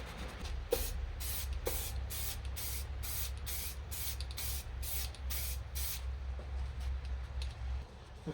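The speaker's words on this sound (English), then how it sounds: "I'm going to coat it again in primer" Primer sprays from an aerosol can onto the rusty boot lid of a Vectra B in a series of about a dozen short, even hissing bursts in quick rhythm, close and clear over a low steady background hum.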